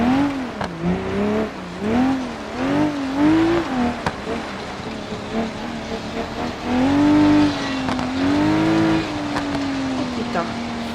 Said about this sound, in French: j'en ai marre de cette voiture qui fait que de drifter